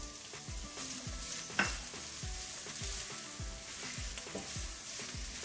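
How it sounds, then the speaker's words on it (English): Onions and dry red peppers frying in a pan for Punjabi-style mustard greens, a steady close sizzle with rhythmic stirring scrapes and one sharp clack, no voices. "We're just going to fry for a little while"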